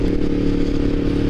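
A 2016 Yamaha MT-10 motorcycle engine runs close by with a steady, even idle and a rich, low droning hum. No voices are heard over it.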